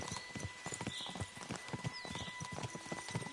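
Horse hooves clip-clop in a quick, steady rhythm of sharp knocks at moderate distance, with a brief whinny-like tone in the background.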